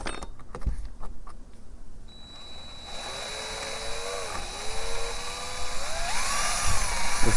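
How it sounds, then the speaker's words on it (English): Power drill boring a pilot hole for a screw in an RV roof vent cover, a steady whine rising and wavering in pitch, close and loud, following some handling clatter. "I'm going to try and make my pilot hole"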